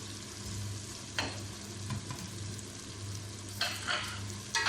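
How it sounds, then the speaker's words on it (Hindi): Tomato paste, still frozen, sizzles in a frying pan of goat meat, a soft steady frying hiss with a few sharp scraping stirs of a spoon against the pan, faint and close. "अब ये टमाटर का पेस्ट जो है ये हम डाल लेते हैं"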